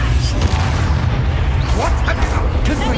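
A Bombarda spell blast from Hogwarts Legacy lands as a loud, deep boom with a burst of crackling debris, close and heavy, a voice calling out over the combat.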